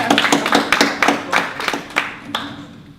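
Audience clapping at an evening talk, a sparse scattering of separate hand claps that taper off within a few seconds, close and moderately loud.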